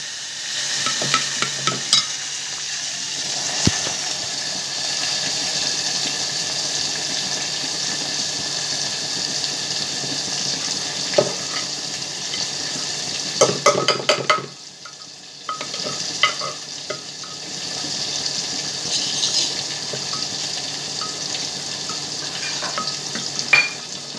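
A tempering of garlic, tomato and coriander for dal fries in hot oil with a steady sizzle. Scattered clicks of stirring sound over it, and the sizzle briefly drops away midway before resuming.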